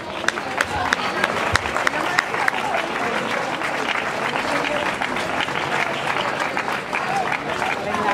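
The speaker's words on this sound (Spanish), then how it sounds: "Un fuerte aplauso para Dani." Crowd applause for Dani Baena, winner of the Legua Castellana road race in Monleras, a steady dense clapping from a large outdoor crowd with scattered sharper claps, mixed with a few voices, lasting throughout.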